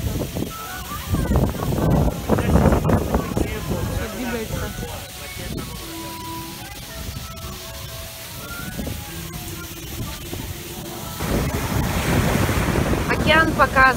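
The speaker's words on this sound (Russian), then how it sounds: "Океан штормит." Stormy ocean surf pounds the shore at Ocean City under cloudy skies, with loud rushing waves and heavy wind buffeting the microphone. The roar swells, eases in the middle, then builds again toward the end.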